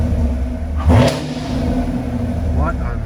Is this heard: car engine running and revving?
yes